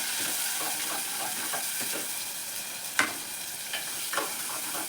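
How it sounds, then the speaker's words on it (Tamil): Garlic, ginger, chopped onions and shallots sauté in a pan for a Kerala-style fish curry, a constant close sizzle with soft stir strokes and one sharper utensil knock. "அது லேசாக ஒரு வதக்கிடுவோம்"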